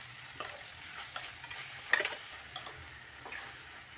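Tomato pieces with salt cook in a pan, giving a soft, steady sizzle broken by several sharp scraping clinks as a utensil stirs them, with no talking.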